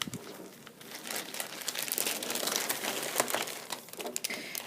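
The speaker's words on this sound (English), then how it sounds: "So then they're going to just put them in the Ziploc bag along with their charger." A Chromebook and its charger slide into a Ziploc bag, producing continuous crinkling and rustling plastic at close range, with the loudest handling in the middle.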